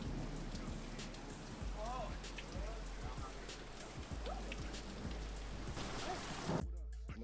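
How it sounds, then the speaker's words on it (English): Steady rain pours down outdoors, a close, dense hiss of drops spattering on surfaces, with faint voices briefly underneath before it cuts off near the end. "When you free, man, that rain feels good, man."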